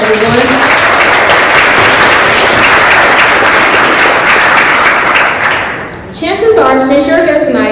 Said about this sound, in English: Let's give him another round of applause, everyone.